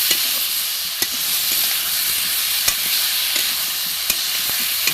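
Spice paste sautéing in a pan, a loud, constant hissing sizzle with a few sharp spoon taps spaced through it.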